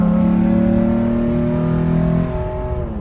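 A V6 truck engine roars at full throttle, jumping to 4,000 RPM and building toward 5,000, a loud deep steady drone with rising pitch, then easing slightly toward the end.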